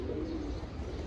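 Pigeons in a household flock coo softly in a low, throaty murmur against a steady background hum, close by and without speech.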